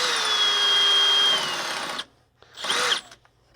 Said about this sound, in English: drill that second hole